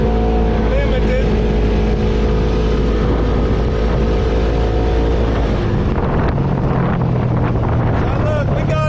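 Used UTV with gear reduction and limited top speed, its engine droning and revving steadily while driving, loud and close with wind buffeting the microphone, and people talking over it.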